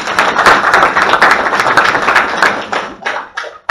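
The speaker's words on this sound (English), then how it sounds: "Anna Belmiro, a round of applause." A live audience at a real estate event claps loudly and close, a dense burst that gradually thins into scattered individual claps before a last sharp clap at the end.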